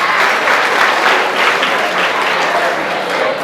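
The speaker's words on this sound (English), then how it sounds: "let's clap for her" An audience applauds a presenter at a breast cancer talk in a school, loud, dense clapping from a crowd that holds steady for several seconds and fades slightly at the end, with no voices over it.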